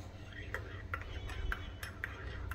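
A spoon stirs coffee in a cup, giving light, evenly spaced clinks against the sides, close and soft over a quiet room.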